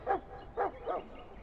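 Dog barks in the role-playing video game Dragon Age: Origins, three separate short yips spaced across a second and a half, moderately faint over a quiet background.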